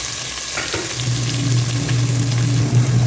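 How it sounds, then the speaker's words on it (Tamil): Onions and green chillies frying in hot oil in a pot with pepper, cloves and cardamom, a loud, close, continuous hiss and crackle with a low steady hum beneath. "ஸோ இதோட வெங்காயம், பச்சை மிளகாய் சேர்த்து போட்டுக்கலாம்."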